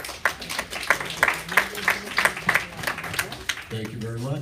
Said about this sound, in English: If we could give him a round of applause